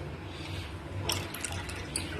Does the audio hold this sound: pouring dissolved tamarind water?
yes